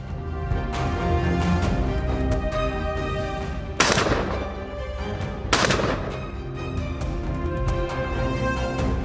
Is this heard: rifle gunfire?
yes